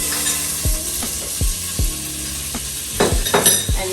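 Butter melting in a pan for coffee-glazed pork chops gives a steady close hiss of sizzling, broken by a series of sharp knocks and clicks from cookware.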